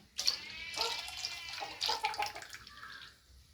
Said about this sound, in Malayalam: തേങ്ങാപ്പാൽ നമ്മൾ പിഴിഞ്ഞ് വെച്ച് അതുകൂടെ ഒഴിക്കുവാണേ